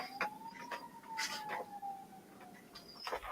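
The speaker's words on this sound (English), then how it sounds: "I hear an ambulance." A distant ambulance siren wails with a slowly sliding pitch, rising and falling steadily, mixed with other indistinct background sounds.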